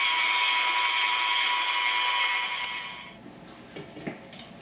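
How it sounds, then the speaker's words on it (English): A stand mixer beats strawberry cream cheese on a medium setting, a steady high whirring that runs loud and close for about three seconds before cutting off, leaving faint clinks and handling noises. "Then we're going to beat on a medium setting in our stand mixer until smooth."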